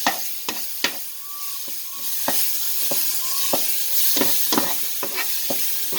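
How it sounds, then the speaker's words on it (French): Chickpea masala curry sizzling in a pan while a spoon stirs it, sharp scraping knocks at an irregular rhythm over a continuous hiss of frying. "Et entre-temps, on va le remuer. Mélanger le tout."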